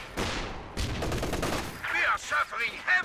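Machine gun fire crackles in a Company of Heroes 2 match: two dense rattling bursts, sharp and loud, then a few shorter shots mixed with whistling and explosive game effects near the end.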